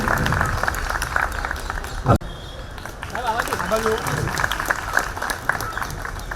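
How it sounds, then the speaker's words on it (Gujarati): Crowd applause rises at a ceremony celebrating Birsa Munda's 150th birth anniversary in Nadiad, a loud burst of clapping that cuts off abruptly, followed by voices speaking over the hall's ambient noise. "તાળીઓના ગડગડાટથી વધાવી લઈશું"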